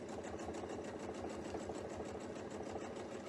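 A sewing machine stitches a quilt with a rapid, even mechanical chatter that runs steadily throughout, close and fairly quiet, with no talking.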